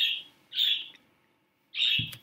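Shrill, close chirps from pet birds kept indoors come in three short bursts separated by quiet gaps, and a brief low thump sounds near the end.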